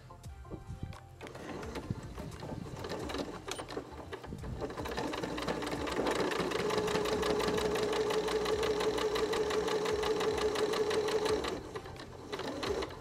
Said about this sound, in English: Then we're going to sew along this edge and along this edge